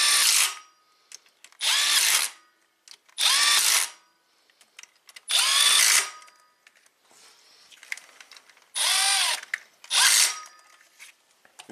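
Impact wrench driving bolts on a Toyota Prius engine during a head gasket job, six loud bursts of high-pitched whirring and hammering, each lasting about a second, separated by short quiet gaps with faint clinks.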